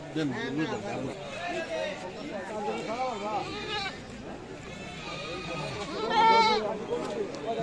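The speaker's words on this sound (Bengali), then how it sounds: "এটা হাট গোয়ালদি মান্ডা ছাগলের হাট।" Goats at a weekly goat market bleating repeatedly amid busy crowd noise, with several wavering bleats overlapping people talking in the background.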